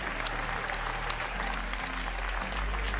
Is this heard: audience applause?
yes